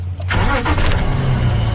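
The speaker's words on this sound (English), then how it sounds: "First step is starting the car" A car engine cranks and catches during an evening safari drive near elephants, settling into a loud, steady idle rumble close by with no voices.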